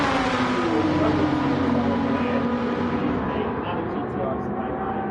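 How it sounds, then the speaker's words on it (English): A Nissan Skyline GT-R with a diesel engine swap in Gran Turismo 7 holds a loud, continuous engine drone whose pitch drifts slowly lower across the whole stretch. "GTR Skyline with that same diesel engine swap."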